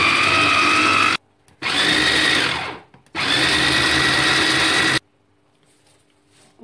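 An electric blender whirs loudly as it chops herbs, parsley, onion and garlic, running in three strong bursts separated by short pauses, then stopping and leaving near silence.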